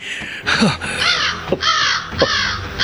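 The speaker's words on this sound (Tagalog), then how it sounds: "May malaking uwak na gumagala dito sa bahay namin kung gabi." Harsh, loud caws from a large crow roaming around a house at night, four raspy calls spaced irregularly over a constant hiss.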